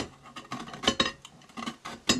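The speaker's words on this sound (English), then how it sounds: "Just cleaning up my microwave plate just a little bit, seeing if I can get some nice pieces of paint off there." Dried acrylic paint is scraped off a microwave plate in short, irregular scratchy strokes and clinks, close and alone with no talking.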